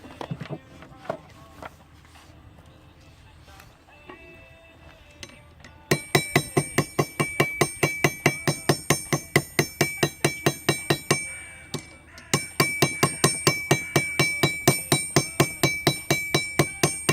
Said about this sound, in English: Then hopefully I can hammer both sides